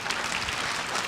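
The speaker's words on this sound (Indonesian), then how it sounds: "sekali lagi beri tepuk tangan buat Tuhan Yesus" A church congregation applauds at a worship service, a steady dense wash of clapping from many hands spread evenly through the room and sustained at an even level, with no voices standing out above it.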